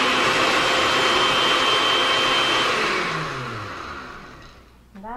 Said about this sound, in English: And so we just do the liquids and then we'll just blend them.